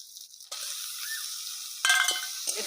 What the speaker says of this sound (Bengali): এটাকে ভালো করে আমি ভাজবো।